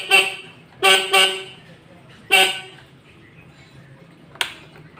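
Horn on a Suzuki RC100 motorcycle sounding in several short, close honks, two quick ones together and then a single one, against quiet background with a faint click near the end.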